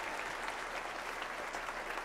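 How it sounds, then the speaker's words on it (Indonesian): An audience at a talk show roundtable applauds. The clapping is dense and steady, fairly quiet and without pause across the whole short stretch. "Tepuk tangan dulu dong untuk Pak Sur dan juga Bu Antarina."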